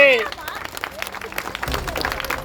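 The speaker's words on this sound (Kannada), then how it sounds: "ಲೈನ್ ಮ್ಯಾನ್ ಚಪ್ಪಾಳೆ ಜೋರಾಗಿ" A crowd applauds linemen at an Independence Day gathering of a power utility's HSR division, with clapping building under a voice and continuing fairly loud and close.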